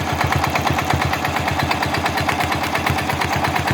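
A sewing machine stitches free-motion quilting on a wholecloth baby quilt with a glide foot, giving a steady, fast, even rapid stitching hum that runs loud and close without pause.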